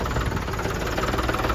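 A tractor engine idles with a steady, throbbing low rumble and rhythmic knock as it is brought inside, loud and close with no voices.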